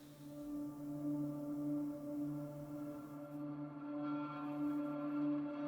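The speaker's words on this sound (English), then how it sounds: "This pad's called Lyra" The Lyra synth pad from the Photosynthesis sample library holds a steady, soft sustained chord with a fantasy feel, swelling slightly and heard alone at low volume.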